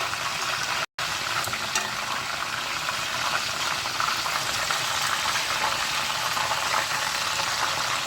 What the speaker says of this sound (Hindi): चिकन को तमाम साइड से अच्छे से फ्राई कर लें।